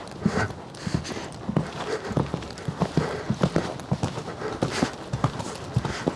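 Horse hooves clip-clop in a quick, uneven rolling beat during a riding session at canter or gallop, close and fairly loud, with a horse snorting and breathing.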